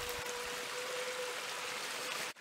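Creek water flowing through the woods, a continuous soft rushing wash of moving water at moderate distance, steady and unbroken until it cuts off abruptly near the end.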